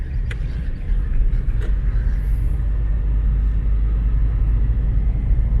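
A car with a CVT transmission drives along, its steady low engine and road rumble continuous throughout, fairly loud and close, with no talking.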